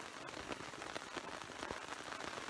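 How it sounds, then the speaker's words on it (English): Steady faint patter of rain drumming on a thin tent surface nearby, with scattered louder drops, no talking. "it's just raining"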